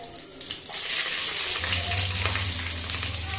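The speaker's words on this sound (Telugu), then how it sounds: "ఆనియన్ కాస్త ఎర్రగేంత వరకు వేయించుకుందాం" Onion hits hot oil with tempering spices in a pan for a mutton curry, and a sudden loud sizzle rises and holds as a steady close hiss with a low hum beneath.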